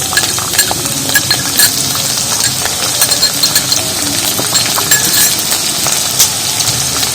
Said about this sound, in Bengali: সেটা তেলের মধ্যে ভালো করে ভেজে নেবো